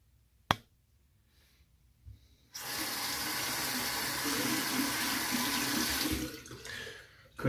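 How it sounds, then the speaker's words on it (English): A razor blade is rinsed under a running tap: a sharp click, then a strong rush of water for about three and a half seconds before it stops, with another knock at the end. "sorry about the rinsing noise today."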